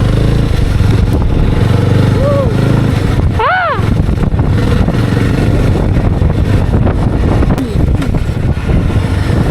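A Jawa motorcycle riding off-road on a hill trail, its engine droning loudly and steadily close to the microphone amid wind buffeting, with a rider's voice talking over it.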